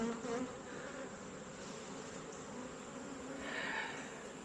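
Honeybees buzz continuously around a hive, a dense, steady drone close at hand with no voices.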